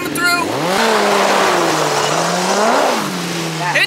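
Race cars accelerating at Circus City Speedway, a loud, close engine roar climbing in pitch, dipping and rising again as they power around, with voices shouting over the noise.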